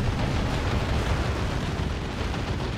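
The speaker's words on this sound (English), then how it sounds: "There's a Tank Buster Barrage." Artillery-style explosions from a Tank Buster Barrage in the strategy video game Dawn of War 2, a continuous loud rumbling roar of overlapping blasts with dense low-end boom and no pauses.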